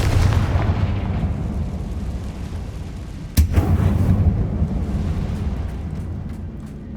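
A Confringo blasting spell from the Hogwarts Legacy game goes off in a heavy, rumbling explosion. A sharp burst midway is followed by a long, loud rolling boom that slowly fades.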